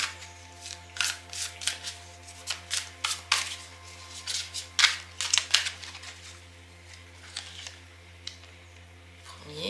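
Tarot cards are shuffled for a reading, giving soft, close riffling and flicking sounds in irregular bursts over a steady low electrical hum, with no voice.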